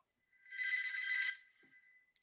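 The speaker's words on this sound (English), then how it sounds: "I got to drop off for a second because the phone's ringing and it's not going to stop." A single telephone rings in one bright trilling burst of about a second. It is fairly faint and distant, with brief faint clicks afterward.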